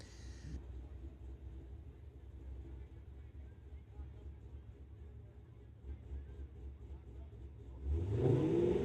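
A Chevrolet Camaro runs a solo drag strip pass, its engine a steady distant drone that swells louder near the end, with a commentator talking over it.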